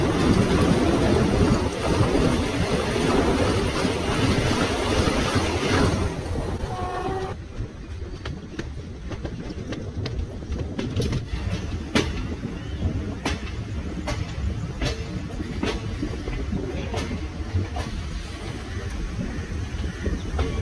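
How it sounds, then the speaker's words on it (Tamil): A passenger train pulls out of Virudhunagar and runs along the line: dense rumbling and clattering of wheels over the rails, loud and close, with rhythmic track clicks once it settles into a steady pace. "நம்ம ட்ரெயின் டிபார்ட் பண்ணிட்டாங்க விருதுநகர்."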